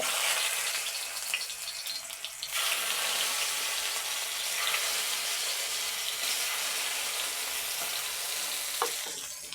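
Sliced tomato frying in a hot pan while a puffed-rice snack is cooked, giving a loud, steady sizzle with broadband crackle throughout and a brief shift in intensity partway through, with no talking.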